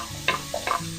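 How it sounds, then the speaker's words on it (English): Onions sautéing in rendered bacon fat in a pot while making potato soup, with a quiet sizzle and a couple of brief stirring scrapes close by, no talking. "I'm going to let this saute for just a few minutes."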